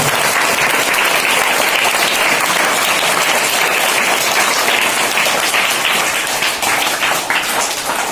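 A crowd at a Class 8 school farewell ceremony claps to welcome a guest, a dense, continuous burst of applause that stays loud and steady for several seconds.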